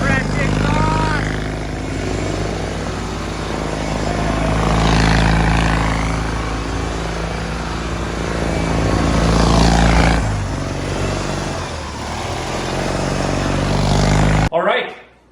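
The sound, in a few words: Briggs opposed twin mud mower engine running through new exhaust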